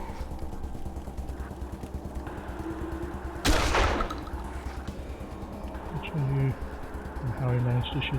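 Gunfire in the turn-based game Wasteland 2, a single sharp burst of shots midway standing out over steady game ambience, with further clattering effects and a voice talking around it.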